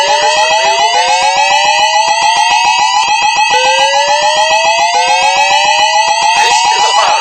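A fire alarm siren blares loudly in a shopping mall, Master Mall, with steady repeated rising electronic sweeps layered over a pulsing tone that never lets up.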